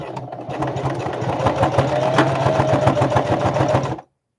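A sewing machine runs steadily, stitching a zippered bag, its rapid even needle rhythm loud and close for about four seconds before stopping abruptly.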